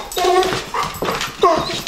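A dog greeting a visitor at a house, wary of the camera, gives soft whimpering whines with short yips in two or three bursts, close and moderately loud.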